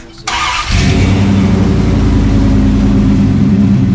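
A rat-rod truck's engine cranks and catches, then settles into a loud, steady idle that fills the rest of the moment with no one talking.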